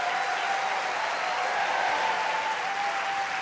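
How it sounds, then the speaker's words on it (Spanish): Steady, dense applause from a large church congregation fills the space, loud and continuous without a break, with faint crowd voices mixed underneath. "ese aplauso."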